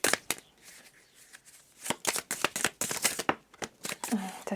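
Tarot cards are shuffled in a run of quick, crisp riffling bursts and soft slaps, close and fairly loud, with brief pauses between handfuls.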